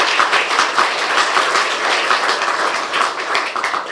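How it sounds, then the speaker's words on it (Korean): A church congregation applauds during an anniversary and new-sanctuary dedication service, with dense, steady clapping from many hands that continues throughout at a fairly loud, even level. "박수하겠습니다"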